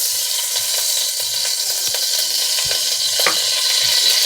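Ghee sizzles in a hot pressure cooker on the stove for vegetable khichdi: a steady, bright frying hiss with scattered small crackles and pops, close and continuous, with no voices.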